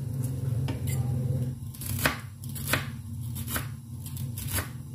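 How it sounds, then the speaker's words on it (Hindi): Mustard greens for saag are chopped on a board, a run of sharp irregular knife strikes over a low steady background hum, no speech. "इसी तरह से मैं सारा साग काट कर इसके अंदर डाल के इसको बॉयल करती हूँ"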